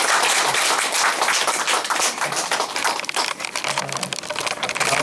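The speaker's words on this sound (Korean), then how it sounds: "박수로 환영해 주시기 바랍니다." A church congregation claps in welcome at an elder's installation service, a loud, dense, continuous wash of many hands clapping together at close range throughout, with no speech.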